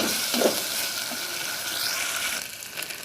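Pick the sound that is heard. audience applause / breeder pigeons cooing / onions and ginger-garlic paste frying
onions and ginger-garlic paste frying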